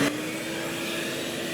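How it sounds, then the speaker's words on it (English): A vacuum cleaner used for car detailing starts up and runs with a steady, loud whining hum and rushing airflow, close by, with no one talking. "Then we're going to turn on our vacuum."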